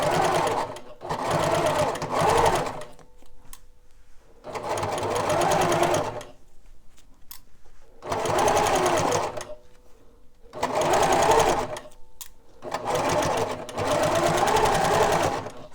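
A sewing machine with a built-in cutter stitching fabric in five bursts of rapid, even whirring, each a couple of seconds long, separated by short pauses, close and clear.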